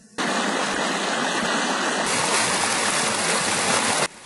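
The Hatton Oya river flows in a steady, close rushing stream that fills almost the whole stretch, then cuts off abruptly near the end, with no one speaking.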